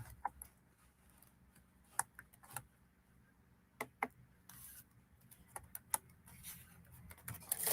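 Sparse, faint clicks of typing on a computer keyboard at home, with irregular keystrokes and short pauses between bursts.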